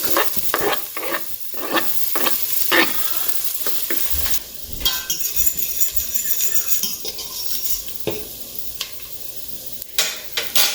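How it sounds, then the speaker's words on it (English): Garlic sautés slowly over medium heat in a pan of onions for Caribbean callaloo, with a steady sizzle broken by sharp scraping and clinking as a utensil stirs against the pan. "turn it down a little to medium just to have it saute slowly. And I'll go ahead and add my garlic"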